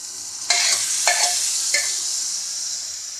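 Cooked dal drops into a sizzling spiced tadka and gets stirred, with three distinct scraping stir strokes over a loud, continuous frying hiss.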